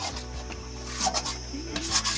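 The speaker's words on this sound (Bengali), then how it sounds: "তোমরাও এইভাবে কড়াইতে দিয়ে নাড়তে থাকবে" A spatula stirs thick lentil paste in a wok, making repeated rough scraping and rubbing strokes in an uneven rhythm, close and moderately loud, with no talking.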